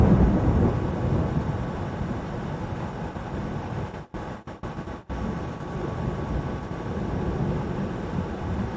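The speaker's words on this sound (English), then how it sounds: "Hear that thunder?" Thunder rolls as a broad, steady low rumble that stays fairly loud, broken by a few brief dropouts midway, with no talk over it.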